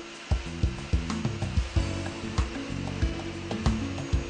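A Kiam KV80 industrial vacuum cleaner with a triple-motor, 3,000-watt system runs with a steady broadband whoosh, partly covered by rhythmic music with regular thumping beats.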